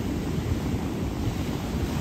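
Ocean waves wash up on a beach where sea turtles are hatching, giving a steady, close rumbling surf roar with wind noise and no speech.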